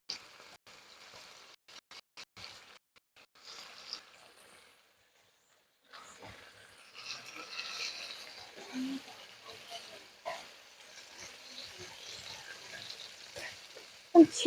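Fish sizzling and spattering in hot oil with turmeric powder and chilli for a homemade Eid meal, a steady soft frying hiss broken by a quiet gap and occasional louder pops, with a voice talking over parts of it.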